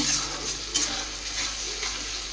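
Masala sautés and is stirred in a pan, giving a soft continuous sizzle broken by faint scraping strokes of the spoon, close and moderately quiet.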